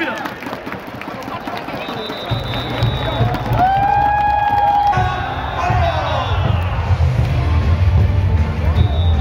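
Crowd noise in the cheering section at a Hanwha Eagles KBO baseball game in Daejeon, a broad steady roar of many voices swelling and holding, with whistle-like tones and whoops rising above it.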